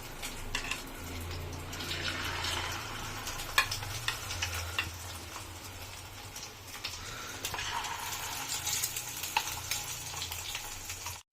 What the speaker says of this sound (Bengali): আমি এবার এই একটা করে চিকেন যে ম্যারিনেট করে রেখেছিলাম দশ মিনিট ধরে এবারে কড়ায় তেলটা গরম হতে আমি একটা একটা করে এতে দিয়ে দেবো